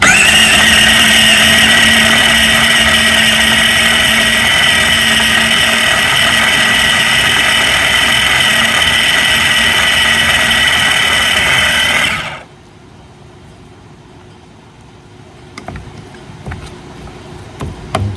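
An electric grinder chopping beaver castor makes a loud, steady motor whir with a coarse grinding roar for about twelve seconds. It then shuts off, leaving a quiet room with a few faint clicks.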